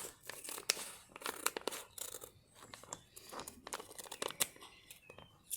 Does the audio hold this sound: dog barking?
no